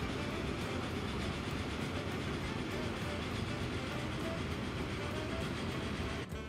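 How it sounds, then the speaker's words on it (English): A boxcar freight train rolls in at a station in Transport Fever 2, a dense steady rumble of wheels and rail noise that stays loud and continuous, with a faint clickety-clack texture and no talk. "Is this our boxcar train?"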